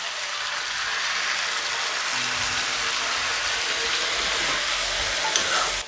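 Onion, ginger and garlic paste sizzles and fries steadily in a hot pan, a dense, continuous crackle that stays loud and even throughout with no talk.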